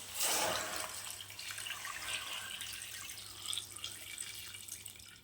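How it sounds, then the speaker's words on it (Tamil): Water pours steadily into a cooking pot of mutton for curry, a close, continuous splashing stream that begins loudly and settles into a softer, even flow. "தேவையான அளவு தண்ணி சேர்த்துக்கலாம்"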